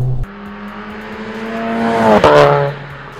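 Stage 2 Volkswagen Golf R accelerating hard, engine note climbing steadily through the revs with a brief shift break before pulling again, loud and close from inside the car, no voices.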